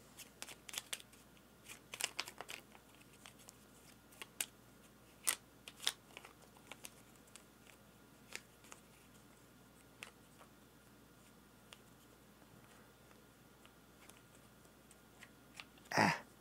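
A deck of cards being shuffled for a Ground Floor board game round, quiet riffling clicks and soft taps scattered in bursts, ending with one louder clatter.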